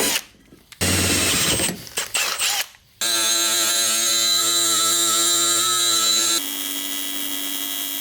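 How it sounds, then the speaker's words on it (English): A power drill bores a hole into a Nissan Pulsar GTI-R to take a fitting, with short stop-start bursts early on, then a long steady high-pitched whine that steps down to a lower tone near the end. "We got it marked where I need to drill a hole"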